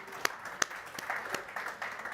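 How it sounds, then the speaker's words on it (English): Sparse, faint clapping from a small audience at a chess tournament event, a handful of separate claps over about two seconds against a soft room hum. "Round of applause."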